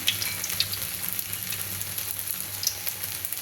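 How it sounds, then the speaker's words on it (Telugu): Mustard seeds, cumin and split dried red chillies sizzling in hot oil in a kadai as tempering for fenugreek-leaf dal, a steady close frying crackle with small pops, alone without talk. "ఇప్పుడు పోపు దినుసులు వేసుకుందాం"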